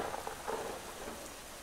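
Rain during a storm in the god-game The Universim, a soft, faint hiss of steady rainfall with a low muffled rumble, alone without voices.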